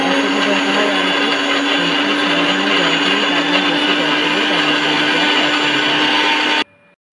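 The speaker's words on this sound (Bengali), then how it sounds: "এবার আমি যেটা করব, মিক্সিতে নিয়ে নেব, নিয়ে মিক্সিতে বেটে নেব।" A mixer grinder runs steadily and loudly, grinding soaked urad (biuli) dal into batter, a constant whirring motor drone that cuts off abruptly near the end.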